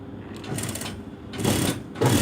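A sewing machine stitches a jumpsuit crotch seam in short close bursts of rapid whirring, with brief pauses between runs.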